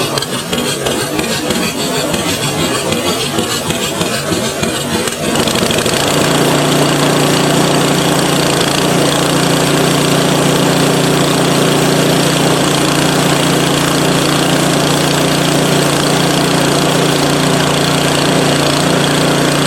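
A PowerSmart 24-inch snowblower engine is pulled over with a rough sputter for a few seconds, then catches and runs loud and steady nearby with a constant droning roar.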